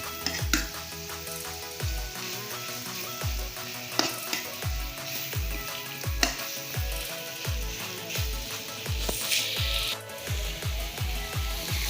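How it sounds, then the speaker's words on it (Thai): Pork stir-fried for spicy northern Thai pad phet, an utensil scraping the pan in a quick steady rhythm over a constant loud sizzle. "เนี่ยผัดให้ เนื้อมันสุกสักหน่อยนะครับ"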